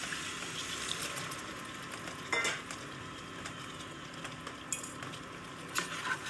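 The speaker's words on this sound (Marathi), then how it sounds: "तरी थोडंसं पाणी टाकते मी याच्यात." A little water added to egg biryani masala frying in a pan, giving a continuous sizzle with stirring and a few utensil knocks, and no talk.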